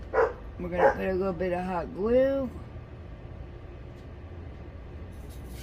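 A pet dog named Sasha barks several times in a room, a few loud yips and a drawn-out whining bark close by, while someone talks over it during a craft session, then quiet follows.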